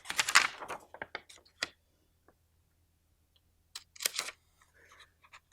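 A paper spectroscope template has a small snip cut out of it, producing a few crisp clustered snipping and crinkling bursts up close, separated by quiet pauses, with no voices.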